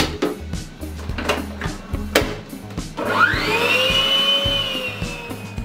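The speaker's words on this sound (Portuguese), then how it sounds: "Agora vamos voltar para a batedeira," A stand mixer whirs steadily for a few seconds, its motor pitch rising as it gets going, after a series of hard knocks and clatters at close range.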